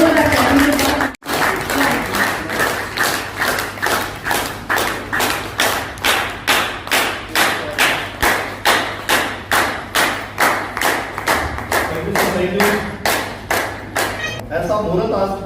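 An audience at a Mi Home store opening in India claps in a steady rhythmic beat, loud and close, with repeated thumping claps continuing throughout.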